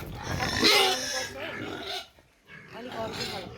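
Hybrid pigs kept in a pen grunt and snuffle at close range, the rough calls mixed in with someone speaking throughout.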